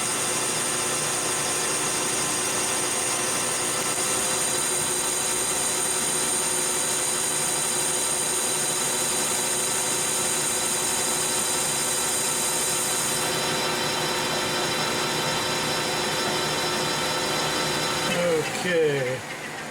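A metal lathe turns steel with long stringy chips that will not break, balling up and burnishing the inside of the bore. The hum is steady and continuous with a faint whine, then a brief scraping rattle near the end.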